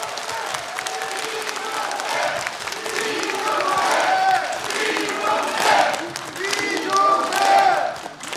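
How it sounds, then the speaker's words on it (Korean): Audience applause at a parliamentary report meeting in Chungju, honoring a third-term National Assembly member; sustained clapping across the whole stretch, swelling in the middle, with some crowd voices and cheers mixed in. "이종배 국회의원님께 뜨거운 박수 보내주시길 부탁드립니다"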